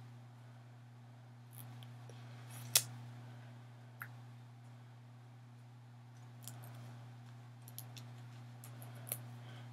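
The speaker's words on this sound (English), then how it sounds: "I go ahead and cut them into individuals." Scissors snip a nail wrap sheet into individual pieces, giving a few faint, sparse clicks and cuts spread over a quiet steady background hum.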